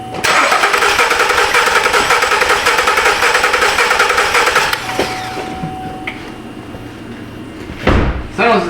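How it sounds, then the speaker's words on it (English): A 2012 Buick Enclave with a misfire cranks loudly and steadily for several seconds, then cuts off, leaving quieter engine noise with a brief thump near the end. "We'll see if we can crank it up."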